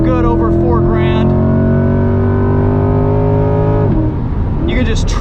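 A 2021 Chevrolet C8 Corvette Z51 with its 6.2-liter V8 revs hard on a track, a loud, rising mechanical drone with strong harmonics that drops off abruptly near the end as the engine lets up, with a voice speaking over it.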